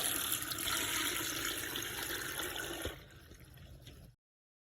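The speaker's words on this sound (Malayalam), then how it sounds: "വെള്ളം ഒഴിക്കാം കേട്ടോ." Water pours continuously into a pot, loud and splashy at first, then thinning to a lighter trickle before stopping.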